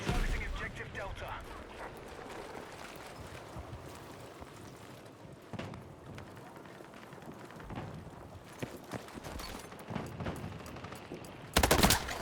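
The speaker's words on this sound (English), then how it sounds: "really accurate sound effects when it comes to like some of the gunfire." Scattered video game gunfire and distant battle noise, irregular shots and bursts mixed under ongoing talk, with a louder cluster of shots near the end.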